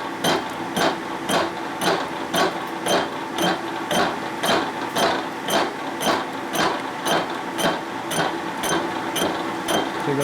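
A machine tool cuts through a welded, hardened section of steel on a motorcycle engine part, giving a loud, steady rhythmic ticking and grinding chatter that repeats about twice per second over a constant mechanical drone.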